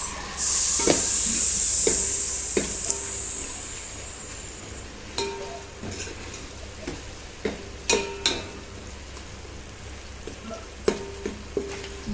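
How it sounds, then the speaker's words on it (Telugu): Turmeric and spices fry in a pan for botti sambar with a loud hiss at first that dies down. A spoon then stirs and clinks against the pan in sharp, scattered taps. "తర్వాత పసుపు వేసి, పసుపు కూడా కొంచెం వేయించుకుంటే 2 minutes."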